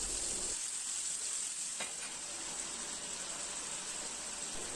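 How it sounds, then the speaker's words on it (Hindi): Chicken liver (kaleji) fries in oil in a pan with a constant, hissing sizzle, close but fairly soft and steady, with a brief clink of stirring and no voices. "अब एक पैन लेके उसमें 4 टेबल स्पून ऑयल डालें और उसमें इस कलेजी को डाल के उसको अच्छी"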